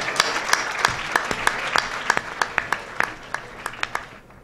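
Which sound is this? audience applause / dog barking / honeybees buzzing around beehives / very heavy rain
audience applause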